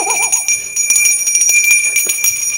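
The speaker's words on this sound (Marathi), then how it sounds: "चल रे बेल दे चल लवकर बेल दे" An electric bell signals the interval at a stage play, ringing steadily and loudly in a continuous metallic buzz for the whole stretch, with some clatter and movement beneath it.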